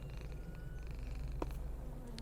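In a horror video game, the player's pet cat Church purrs softly and steadily, a close, even rumble with faint pulsing and no voices over it.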